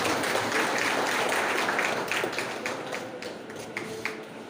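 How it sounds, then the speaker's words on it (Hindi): Dense applause from a seminar audience in Berhampur, steady and sustained clapping that thins out slightly toward the end, with no voices over it. "तो इनके लिए जोरदार ताली होता है।"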